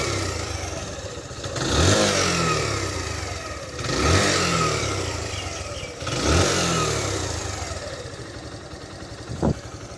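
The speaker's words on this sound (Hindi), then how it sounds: "ये इस मोटरसाइकिल की कुछ साउंड है" A Suzuki GSX125 motorcycle engine idles, then is revved three times in quick succession, each blip rising and falling away before it settles back to a steady idle with a brief sharp click near the end.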